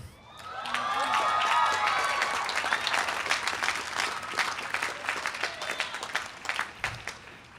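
Loud, sustained applause with cheering and whoops from a commencement crowd at an Emory Law School ceremony, swelling quickly and holding steady, with scattered individual claps standing out toward the end.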